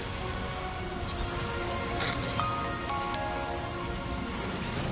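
Steady rain pours in the Death Stranding 2 video game, a dense, even patter on surfaces throughout with no voices.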